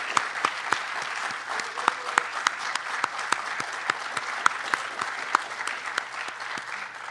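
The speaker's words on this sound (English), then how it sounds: "Please give them a round of applause." An audience applauds students at a Poetry Out Loud recitation event, with steady, dense clapping that carries on throughout, loud sharp claps standing out from the crowd.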